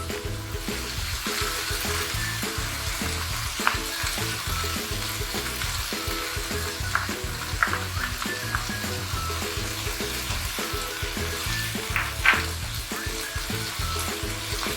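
Red capsicum and tomato puree sizzle and fry in a pan, a steady hissing sizzle broken by occasional stirring clinks, loud and close throughout.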